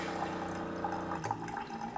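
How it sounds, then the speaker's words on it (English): Coffee being poured, a faint continuous liquid trickle and splashing lasting a couple of seconds, close and alone against a low background hum. "Who's pouring water? It's my coffee."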